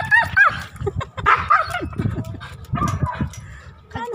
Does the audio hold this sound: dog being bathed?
yes